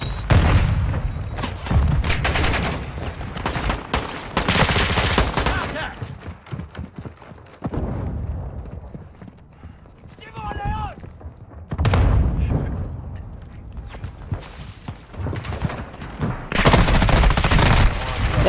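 Video game gunfight with repeated bursts of gunfire and heavy booms, loud and clustered in several waves, a rapid fusillade at times, with players talking over it between volleys.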